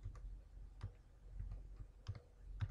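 Quiet, scattered key clicks from typing on a computer keyboard, a handful of soft irregular taps spread over a few seconds with low background hum and no talk.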